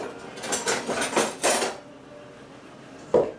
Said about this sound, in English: this cutter and cut into it until it looks like coarse sand